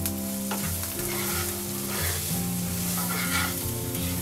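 A spoon stirs a corn and potato filling with red chili, garam masala, amchur and salt in a hot pan, a steady close sizzle under a faint scraping, with a low hum beneath and no talk.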